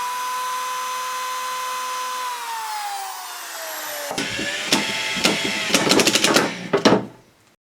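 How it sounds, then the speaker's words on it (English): Power drill boring a hole through a bowling ball to mount it on a piece of wood: a steady whining motor that slows and drops in pitch, then gives way to several sharp, gritty bursts as the bit catches. "But right now I'm going to drill a hole just to mount this on a piece of wood"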